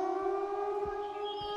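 A steady civil defense siren drones in the zombie survival game Zompiercer, a sustained multi-tone wail holding level throughout with faint low thumps beneath.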